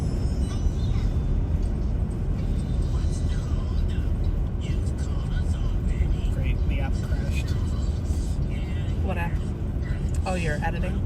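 A car drives through a snowstorm with a constant loud road and engine rumble and wind noise. Several people talk over it throughout.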